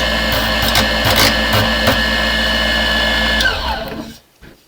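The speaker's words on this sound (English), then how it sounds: "You sand it right off." A small, cheap viral cutting machine sanding material off: a loud, steady, close motor whine with grinding bursts that winds down and fades out near the end.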